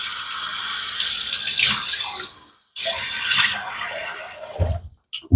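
A tap runs steadily into a sink as water is gathered to wet the face before a shave, a close, even splashing stream that stops, resumes, and ends with a few short splashes.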